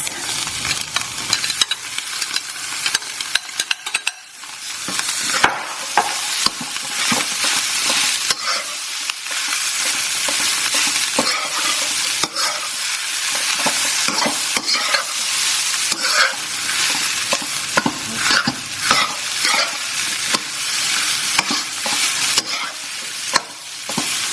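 Rice for Thai fried rice stir-fried with broken-up egg in a hot pan, a steady loud sizzle broken by repeated scraping and tossing strokes of the spatula, close by with no talking.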